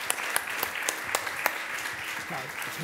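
Studio audience applauding guests at the end of a Slovak talk show, a dense patter of clapping with a few sharp loud claps, nearby and filling the moment.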